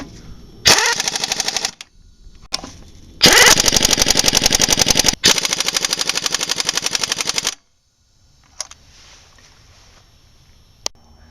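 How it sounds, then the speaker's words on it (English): An impact wrench tightens car lug nuts in a star pattern, firing in loud rapid rattling bursts: a short burst, a brief blip, then two long sustained hammering runs, followed by a few faint clicks and near silence. "Now, I want to say this about an impact wrench"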